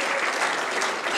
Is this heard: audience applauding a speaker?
yes